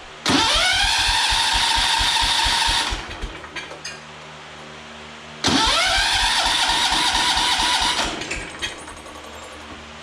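A John Deere 140 garden tractor with a sticky carburetor and a worn PTO bearing cranks and catches twice, each time a loud burst of rapid starter chugging that runs about three seconds and then drops away, close by with no talking.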